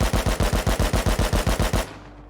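An AK rifle in the video game Rust fires one loud, rapid automatic burst for nearly two seconds before cutting off abruptly.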